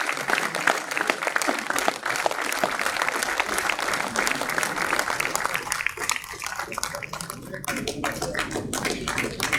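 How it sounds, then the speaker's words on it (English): An audience at a steel plant's National Safety Day celebration applauds a department collective with sustained crowd clapping, dense and steady, easing slightly near the end. "Please give a big round of applause for Blast Furnace Department Collective."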